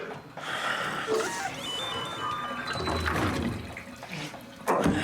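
Shower water running steadily in Death Stranding, a continuous broadband hiss and splash that holds for several seconds, close and fairly loud, with no voices over it.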